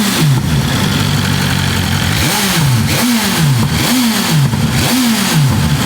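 A 2025 BMW S1000RR motorcycle with a full titanium Akrapovic exhaust revs hard several times in a row, each blip rising and falling over a loud idle, close and without talk.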